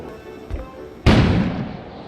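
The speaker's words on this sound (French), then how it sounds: "On aurait dit qu'une explosion avait soufflé dehors." An explosion booms outside, a soft thump followed by a sudden loud blast that decays into a rumbling tail, heard alone.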